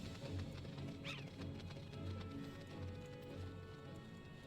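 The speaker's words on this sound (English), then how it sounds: "is that Shiva's horse?" Hoofbeats of Shiva's horse in a fantasy online role-playing game: soft, steady clip-clop steps repeating under a constant ambient background, with a brief chirp-like tone near the start.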